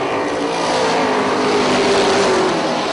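Race cars at Punta Gorda Speedway, with a dense, continuous engine roar from several cars bunched together, loud and close and holding steady for the whole stretch.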